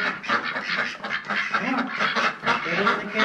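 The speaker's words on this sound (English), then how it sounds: "I'm just gonna try to chase the ducks into this cage" Ducks quack loudly and continuously, a close, overlapping flock chorus, as they are chased into a cage before being moved back to a pond.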